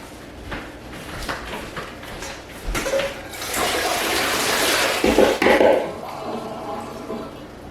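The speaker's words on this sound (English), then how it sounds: "I'm going to drain these off." Hot water pours off boiled green beans as they are drained, a rising splashing gush that peaks midway and then tapers, close and fairly loud with no talk.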